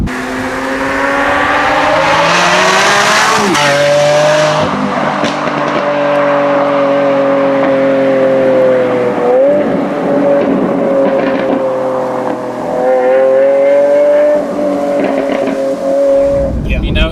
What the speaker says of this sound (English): the Aventador has such an iconic sound